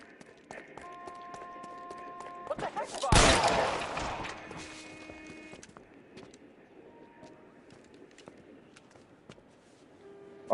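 Gunfire rings out in the video game L.A. Noire: a sharp, loud burst of shots that trails into a ringing echo, with quieter game ambience and scattered ticks before and after.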